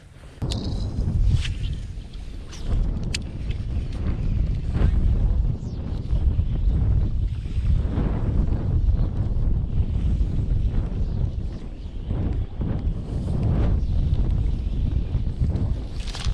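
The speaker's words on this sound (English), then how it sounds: "I'd like them a lot better if that wind would go down to about 5 knots." Strong wind blowing across an open bayou during a fishing trip, a loud, continuous low roar with gusts buffeting the microphone and no one speaking.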